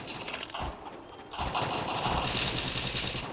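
Automatic gunfire in a Free Fire Clash Squad match: loud, dense, continuous bursts of shots, briefly dipping and then resuming steadily to the end, with no speech.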